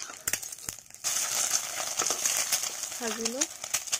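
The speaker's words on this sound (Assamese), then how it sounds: "ভাজি আছোঁ সৰুটো কণী" Small local eggs fry in a pan with a steady, close sizzling hiss and scattered clicks of the utensil; a short voice briefly rises over it.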